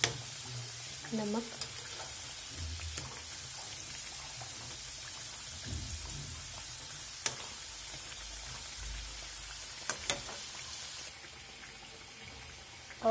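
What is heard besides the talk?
kachoris frying in oil on a low flame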